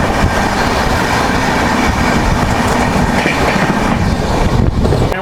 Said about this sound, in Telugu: ఇక్కడైతే మనం ఎస్ఎంబీపీ నుంచి హౌరా వెళ్ళే సూపర్ ఫాస్ట్ ట్రైన్ అయితే ఓవర్టేక్ చేస్తున్నాము.